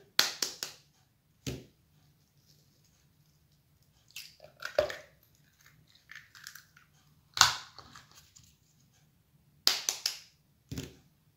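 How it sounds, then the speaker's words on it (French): Three eggs are cracked for a rainbow cake batter, heard as sharp, close cracks and shell crunches spaced several seconds apart in a quiet room, with some soft handling noises in between. "On va casser 3 œufs"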